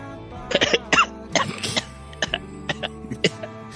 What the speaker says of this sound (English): He keeps coughing at the strangest moments.